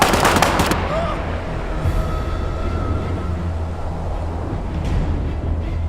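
Gunfire in the video game War Mongrels, a quick burst of sharp shots at the start, then rumbling battlefield ambience with a faint voice, a few fainter distant pops later.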